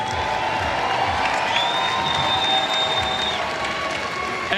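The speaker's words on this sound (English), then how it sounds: "let's give a round of applause for the Party Animals" Stadium crowd applauding and cheering the Party Animals at the final Banana Ball game of the 2023 tour, a steady wash of clapping and whoops throughout, with a whistle rising partway through.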